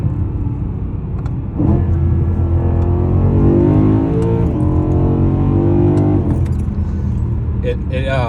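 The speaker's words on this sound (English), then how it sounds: "it gives it a really deep, throaty V8 noise with like zero rasp" A BMW E92 M3 V8 with an OEM ACM exhaust mod blips during a downshift: a deep, throaty exhaust rumble climbs sharply in pitch, holds for a few seconds, then settles back, loud and close.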